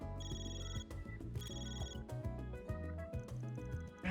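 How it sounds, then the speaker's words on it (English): A phone rings in the video game Trails Through Daybreak, a repeating electronic ringtone melody in short bursts playing steadily over layered game music for several seconds. "my stupid phone"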